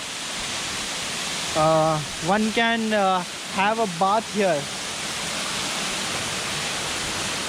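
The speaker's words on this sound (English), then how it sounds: "This is the Horti Mane waterfalls." Hortimane waterfall in Chikmagalur pours in a constant, dense rush of falling water, close and even throughout, while someone speaks briefly over it.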